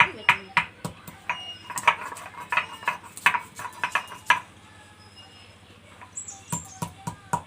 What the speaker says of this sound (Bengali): এইভাবে সমস্ত মশলাগুলো বেটে নেব